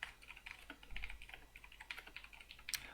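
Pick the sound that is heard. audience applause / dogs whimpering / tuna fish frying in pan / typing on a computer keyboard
typing on a computer keyboard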